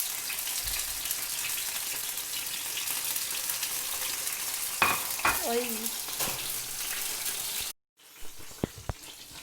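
Chicken pieces sizzle steadily in hot oil in a frying pan, a dense continuous crackle with a few brief tonal clinks and knocks midway, then a sudden cut to quieter frying with sharp pops.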